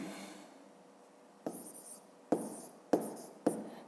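A pen writes numbers by hand during a fifth-grade long multiplication exercise, giving short close scratchy strokes in four quick bursts over a quiet background.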